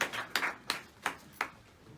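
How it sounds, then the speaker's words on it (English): Several sparse handclaps, about five spaced claps over two seconds, faint and somewhat distant, at a welcome gathering of the Ohaneze Ndi Igbo community in South Africa. "A round of applause, ladies and gentlemen."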